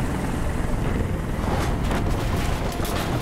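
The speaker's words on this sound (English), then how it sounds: "the goddamn helicopter" A helicopter hovering overhead during a rooftop hostage standoff in the game Detroit: Become Human, a loud, steady rotor roar with a dense low rumble and a faint chopping pulse.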